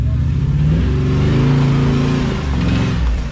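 A 4WD vehicle's engine revs hard and steadily as it climbs the steep Yalwal track in NSW, a loud, close, sustained roar that rises and holds with little break.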